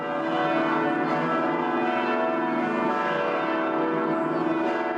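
The bells of the Sé Cathedral ring continuously for a canonization, their overlapping tones forming a dense, sustained peal without any talking.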